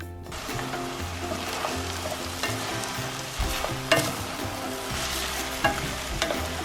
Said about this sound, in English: I am going to brown those onions, and then I am going to add an entire package of mushrooms and then let the whole thing simmer